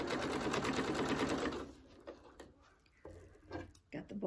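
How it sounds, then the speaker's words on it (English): A sewing machine stitches a fabric hot pad in a fast, continuous mechanical run for about a second and a half, then stops, leaving scattered handling noises. "I'm going to sew all the way to the end with the needle down."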